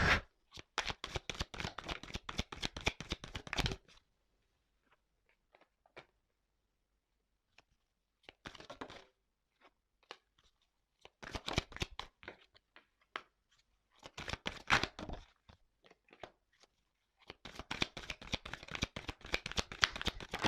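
Tarot cards shuffled by hand in several quick bursts, crisp riffling and slapping close up, separated by pauses of near silence.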